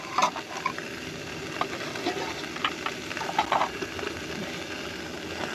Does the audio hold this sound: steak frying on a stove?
yes